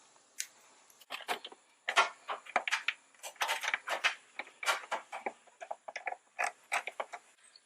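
A 6mm socket on a ratchet turns headlight screws on a 1999-2004 Ford Super Duty, producing a quick run of close, sharp clicks in uneven bursts with short pauses between them.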